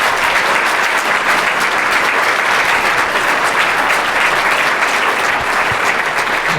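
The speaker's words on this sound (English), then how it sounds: "Always good to end on a round of applause." Audience applause at a summit discussion, a loud, continuous, even roar of clapping that fills the whole stretch without a break.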